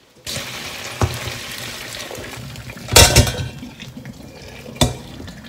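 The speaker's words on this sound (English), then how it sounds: "and drain the hot water." Hot water from boiling pig's trotters rushes and splashes steadily out of a pot, with a few metallic clanks and knocks against the sink along the way.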